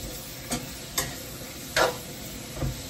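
Adobo gets stirred in a sizzling pan, with four distinct scraping strokes spaced unevenly over a soft, steady frying hiss, close by and with no voices.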